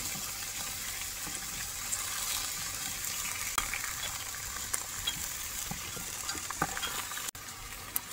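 Slices of Korean pumpkin fry in a pan with a soft, steady sizzle and occasional sharp pops and spatters, heard close and fairly quiet with no talking.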